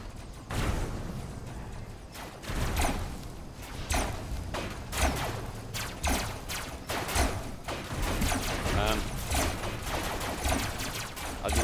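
Rapid gunfire from robot weapons in the vehicle-combat game Robocraft, a dense, continuous barrage of overlapping shots and bursts at steady loudness with no speech.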